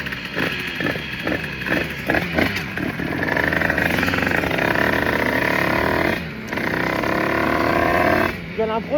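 A 1986 Yamaha DT two-stroke motorcycle runs close by with a loud, steady buzzing engine note that swells and holds, dips briefly near the end, and someone talks over it.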